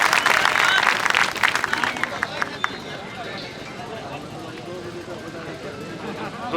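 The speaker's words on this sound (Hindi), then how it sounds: "जोरदार तालियों से स्वागत" An outdoor workers' gathering gives dense, loud applause as a state party president takes the stage. The clapping fades within two seconds into murmuring and voices talking.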